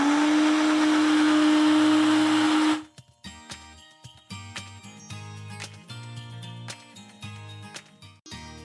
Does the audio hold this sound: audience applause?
no